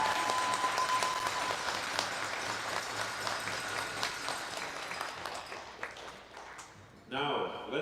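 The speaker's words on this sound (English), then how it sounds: "A big round of applause for Team Venance's performance this week." Audience applause for a curling team at the final of the BC Men's Curling Championship, a steady wash of clapping that fades toward the end before a brief burst of other sound.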